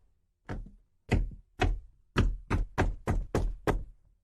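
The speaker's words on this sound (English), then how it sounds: "They hear knocks at the door." Eight firm knocks on a door, a single one followed by a steady series of evenly spaced raps, close and clear with silence between them and no voices.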